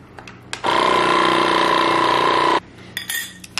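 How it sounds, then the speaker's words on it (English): A countertop vacuum sealer pulls air from a jar of food as a steady, loud motor hum with a whine that runs about two seconds, then stops abruptly, with a few soft clinks before and after. "Then, last of all, I'm just going to vacuum seal it. Remove as much air and oxygen as possible."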